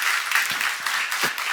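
A church congregation claps together in steady, fairly close applause, a bright dense patter with a few louder thumps, no speech over it.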